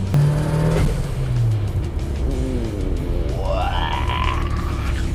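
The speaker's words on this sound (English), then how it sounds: "then you hear the blow-off valve going" A Mitsubishi Evo IX engine revs and drops, then a rising whistling whoosh swells as the turbo spools and the blow-off valve vents, close and moderately loud with no speech.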